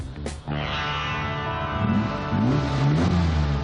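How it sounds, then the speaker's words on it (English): A Maserati Merak supercar drives up, its engine droning steadily with a rising, revving tone that grows louder toward the end. "Jeremy was next to roll up. Behold, the Maserati"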